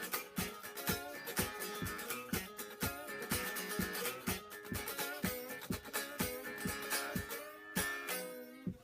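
An electric guitar plays the intro and offbeat rhythm part of a song from Monterey Pop, with punchy chords and rhythmic chops, close and fairly quiet with no voice over it.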